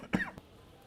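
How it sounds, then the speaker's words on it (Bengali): A person coughs close by: one sharp, loud cough followed by a smaller second one, with quiet room tone afterward. "তোমার কাশি হলো কখন?"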